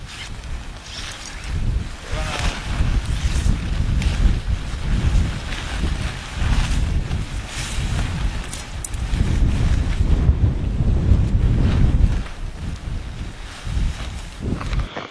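Steady wind gusts across a mountain lake campsite, a continuous rushing roar with buffeting on the microphone that swells and eases throughout, with no voices.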